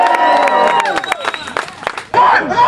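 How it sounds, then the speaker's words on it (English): Rally crowd at Occupy San Jose bursting into cheers, whoops and claps, loud and close, with shouting voices mixed in and a brief lull before a fresh surge of cheering. "Can I get a cheer for that?"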